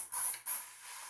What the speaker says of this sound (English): Supposedly a continuous spray.